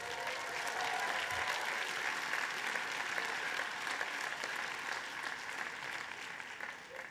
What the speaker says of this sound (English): Now give those folks a wave and a clap.